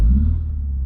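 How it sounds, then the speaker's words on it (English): A 2025 MINI JCW Hatchback's turbo four-cylinder catches with a deep, close rumble that settles into a steady low idle. "Some fun mini sounds. We can start it up."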